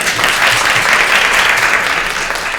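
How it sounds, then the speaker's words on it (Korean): Sustained audience applause at a biomedical seminar in Korea, a dense, steady wash of many hands clapping that holds at an even level for a few seconds, with no voices over it. "큰 박수 부탁드립니다."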